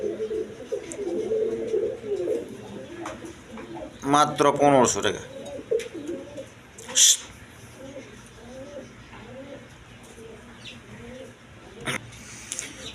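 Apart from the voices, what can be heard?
pigeons cooing at a market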